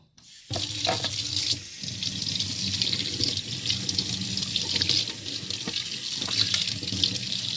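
A plate being scrubbed and washed under a running kitchen tap, with steady loud water flow splashing into the sink and faint clinks and rubbing beneath, beginning abruptly after a short quiet moment.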